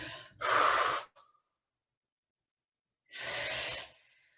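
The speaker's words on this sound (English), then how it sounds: "That's it. Breathing." Two deep, audible breaths, a sharp inhale and then a long exhale a few seconds later, taken close by during standing Pilates squats, with silence between them.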